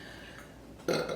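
A person burps once near the end, a short, moderately loud belch after a faint, quiet lead-in.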